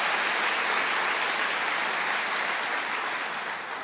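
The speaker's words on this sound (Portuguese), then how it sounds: "Dando uma salva de palmas" A church congregation applauds in honor of the church's psychologists, a full, continuous wash of clapping from many hands that stays even throughout and tapers gently at the close.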